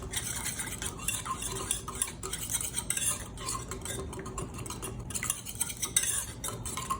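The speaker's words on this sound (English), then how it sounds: "I'm just going to whisk this stuff up together." A whisk clatters briskly against a bowl while a muscadine vinaigrette with salt is beaten together, a rapid, steady scraping and ticking rhythm close by with no talk.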